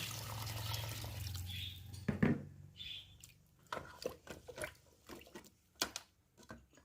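Water poured into a pot of beef paya cooking in a restaurant-style kitchen, a splashing pour at first followed by scattered drips, clinks and small splashes, close and fairly quiet.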